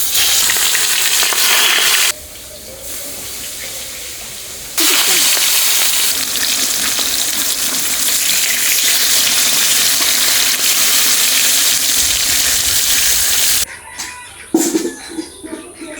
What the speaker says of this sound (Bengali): মাছটা এখন হালকা করে আমি ভেজে নেবো এক এক করে।